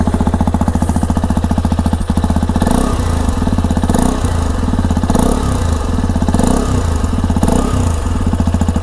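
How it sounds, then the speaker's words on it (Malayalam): A 2025 Hero Xpulse 210 off-road motorcycle with a short exhaust, revving near the microphone: a loud, throbbing idle broken by a series of quick throttle blips that swell and fall back. "കണ്ടില്ലേ, ഈ രീതിയിലാണ് എക്സോസ്റ്റ് നോട്ട് വരുന്നത്."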